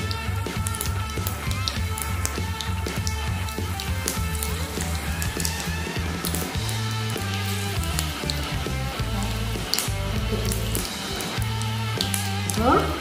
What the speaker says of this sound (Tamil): கடுகு வெந்தயமும் பொரிஞ்சிச்சு